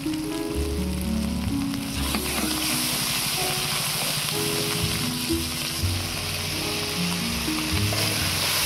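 Ground spices, Kashmiri chilli, cumin, coriander and pepper, fry in hot oil for potol korma with a loud, constant close sizzle and crackle, while a low melodic tune plays underneath throughout.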